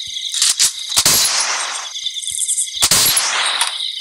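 Two loud, sharp shotgun blasts from Free Fire, a couple of seconds apart, each followed by a ringing, hissing decay.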